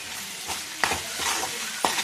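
Goat tripe fries in a pan with green chillies, mint and curry leaves, giving a steady sizzle broken by a few sharp scraping stir strokes, close and clear with no talk.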